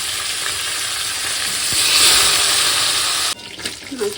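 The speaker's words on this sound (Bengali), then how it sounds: "মাছ ভাজা হয়ে গেল" Fish frying in oil gives a loud, steady sizzle with a brief swell midway, cutting off abruptly toward the end.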